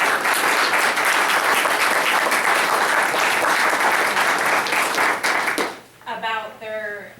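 Loud, sustained applause fills a school board meeting for several seconds, then quickly dies away as a voice begins speaking.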